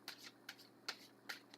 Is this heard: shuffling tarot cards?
yes